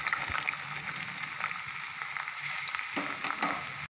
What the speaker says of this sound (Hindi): तो अब जीरा भुन गया है तो इसमें प्याज डाल देंगे।